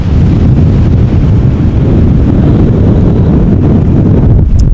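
Strong wind at Schiphol Airport during Storm Pia, a loud, continuous low roar buffeting the microphone without letup.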